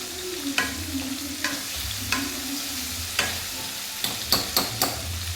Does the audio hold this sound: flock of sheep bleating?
no